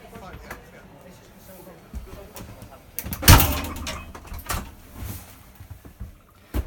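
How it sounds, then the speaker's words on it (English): The door of an Airstream trailer is shut quietly, producing a single soft, muffled thud among light rustling, while people talk before and after. "one nice thing about that bank vault is it's very quiet when you shut the door."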